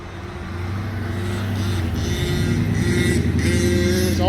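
A Rovan Max 5T gas-powered RC car engine buzzes at about half throttle, a steady, close, droning whine that gradually grows louder, with no talking.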